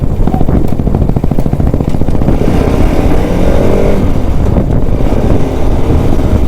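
A Royal Enfield motorcycle engine runs loud and close on a morning ride, a steady pulsing thump with a slight rise in revs partway through.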